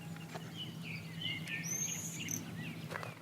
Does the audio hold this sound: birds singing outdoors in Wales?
yes